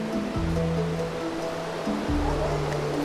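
Meenmutty Falls in Wayanad, a continuous broad rush of falling water heard from nearby, steady and fairly loud with a faint low tone running underneath, no talking.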